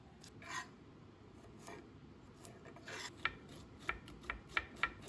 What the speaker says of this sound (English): Clean and grate some fresh ginger.